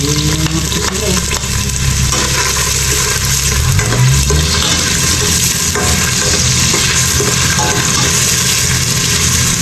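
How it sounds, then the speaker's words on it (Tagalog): Ginger frying in hot oil gives a loud, continuous sizzle close by, with stirring scrapes and clatter running through it. "Luya, sa mainit na mantika."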